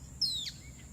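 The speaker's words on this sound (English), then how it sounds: "Near the riverbed, the jacana and purple gallinule are startled." A single sharp, high bird call rings out faintly near a riverbed in Belize, a quick descending whistle followed by a softer note over a low background hum, from jacanas and purple gallinules.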